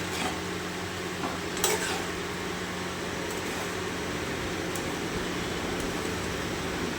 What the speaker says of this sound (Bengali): এবার খুন্তা দিয়ে একবার নাড়াচাড়া করে দিই।